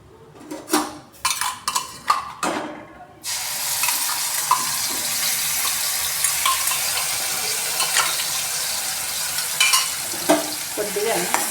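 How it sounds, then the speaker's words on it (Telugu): Masala spices frying in a spoonful of oil in a pan while being stirred, for fried rice; a few sharp scraping stirs open the clip, then a steady close sizzle continues with occasional spoon clatter. "కొద్దిగా నూనె పైకి వచ్చే వరకు వేయించుకోవాలి"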